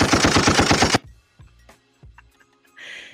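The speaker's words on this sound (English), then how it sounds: "I love the gunshot feature, and I'm gonna keep playing it as long as I can" Rapid automatic gunfire bursts loudly in a street-themed game, about a second of fast, evenly spaced shots, followed by a few lone knocks and clinks and a short hiss.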